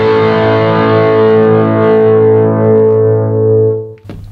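Electric guitar played through the amp's driven channel, a single sustained distorted chord ringing loud and thick for about four seconds before being cut off abruptly, with no talking.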